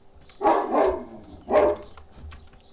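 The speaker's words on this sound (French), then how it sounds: "J'aurais bien coupé le volume des chiens, tiens." Several loud, close dog barks in quick succession, two clustered together and then a third after a short pause, with faint whimpering between them.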